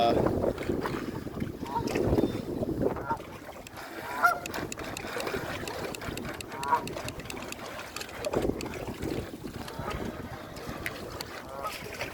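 Ducks quack and honk intermittently outdoors over a noisy, choppy background of water and the small motor of an RC model battleship, with a voice speaking at times.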